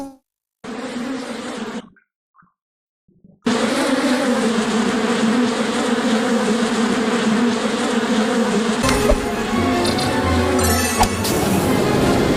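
Bees buzz loudly and steadily at close range in a cutscene from the Bee Movie Game, continuing almost without a break after a short silent gap near the start, with some clattering crashes toward the end.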